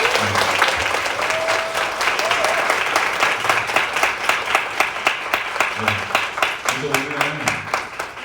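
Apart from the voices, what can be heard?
audience applause at start of meeting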